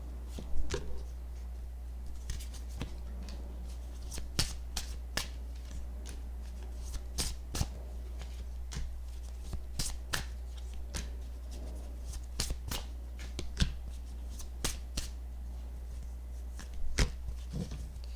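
A deck of reading cards being shuffled by hand, with repeated crisp riffles and slaps scattered irregularly through a quiet room over a low steady hum, and no voices.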